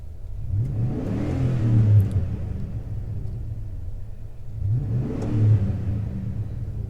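A GMC Yukon XL Denali engine revs up twice through its exhaust, each deep rumbling rise swelling and easing back to a steady idle between them.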